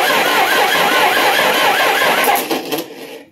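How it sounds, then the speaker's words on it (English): The old starter on a 1961 Studebaker Lark cranks hard on 24 volts instead of 12, a loud, close, rapidly pulsing whirr that runs steadily for over two seconds, then cuts off, leaving brief rattles. "24 volts really cranks that old starter."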